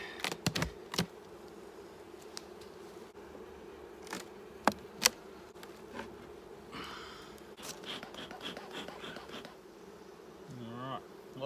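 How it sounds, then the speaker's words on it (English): Honey bees in an opened beehive, a low steady buzzing hum of many bees close by, broken by a few sharp clicks and knocks from handling the hive. "let's open our hive up."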